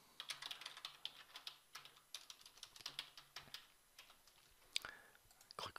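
Quick, light keystrokes patter on a computer keyboard in short bursts, close and quiet, with brief pauses between runs of clicks and a faint low hum underneath.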